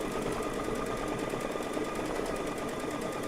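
An embroidery sewing machine stitches out swirling vine shapes on a quilt block, a rapid, even mechanical chatter that runs continuously and fairly close, with no talk over it.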